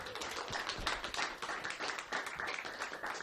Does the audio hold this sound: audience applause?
yes